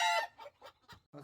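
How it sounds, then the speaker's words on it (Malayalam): A fancy chicken offered for sale at a pet farm in Kerala gives a loud, close squawk, then several short, softer clucks in quick succession. "അപ്പോൾ ഫാൻസി കോഴിയാണ് കേട്ടോ."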